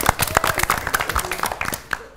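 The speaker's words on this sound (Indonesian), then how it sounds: "Tepuk tangan" Studio audience claps on the Indonesian TVRI quiz show Kuis 5X5, a dense burst of many hands close by that fades out after about two seconds, with no voices over it.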